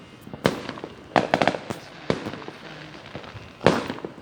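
Fourth of July fireworks at GRRF crack and pop outdoors in irregular bursts, with a quick cluster of bangs in the middle and separate loud reports before and after.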